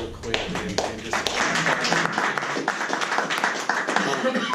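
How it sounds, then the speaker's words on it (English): An indoor audience breaks into sustained applause, a dense, even patter of many hands clapping at fairly close range for several seconds. "So I just want to give you guys a round of applause real quick."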